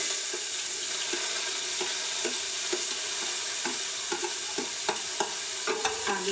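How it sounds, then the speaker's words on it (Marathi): Chopped onions sauté in hot oil in a pan for a bombil rassa, a steady close sizzle with repeated scraping clicks of a spatula stirring through it. "कांदे परतून घेते"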